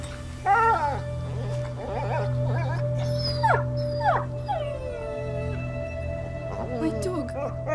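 An injured dog in the A Plague Tale: Innocence video game whimpers and howls in several rising, wavering cries over a low steady drone, close and plaintive.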